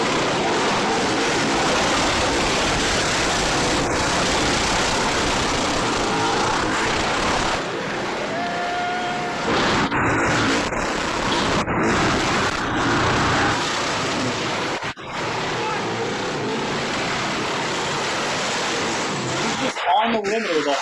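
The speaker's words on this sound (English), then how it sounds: "Be quiet so we can hear the car." A car engine running hard during a burnout with no rev limiter, a loud continuous roar that fills the clip, with people talking over it.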